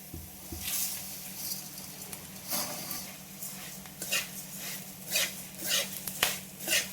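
Poha sizzles as it is tossed and sautéed in a pan on a low flame with turmeric, with soft stirring scrapes and faint frying crackle through the clip.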